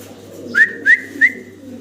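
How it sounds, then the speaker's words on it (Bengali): A lone pigeon gives three short whistled calls in quick succession, clear and close over a low background hum. "এতে একা একাই ডাকতেছে ভাই, ভাই একা একা ডাকতেছে"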